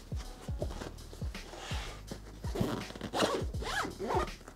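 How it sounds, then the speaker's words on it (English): A Manfrotto Advanced Compact III camera backpack is zipped shut in a series of quick, close zipper pulls, some short and scratchy, others longer rasping strokes near the end. "Let's zip it up."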